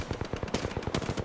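Rapid bursts of Spitfire machine gun fire in the video game Apex Legends, a dense rhythmic rattle of about a dozen close shots in quick succession.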